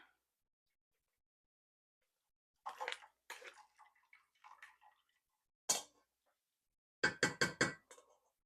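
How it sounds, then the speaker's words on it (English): Cooked cranberries are stirred and shifted in a sifter to drain during juice canning, making close, sparse wet squelches and knocks, then a quick run of five sharp taps near the end, with silence between. "I'm just taking the sifter, or what's in the sifter, moving some of that around so it can drain"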